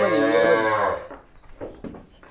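A Gir cow on a dairy farm lets out one long, deep moo up close, followed by a few softer, scattered noises.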